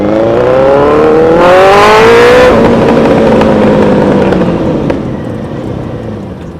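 A Suzuki Hayabusa motorcycle revs hard on a road at close range. Its engine note climbs in a loud rising sweep, holds a roaring peak, then settles into a lower drone that slowly fades.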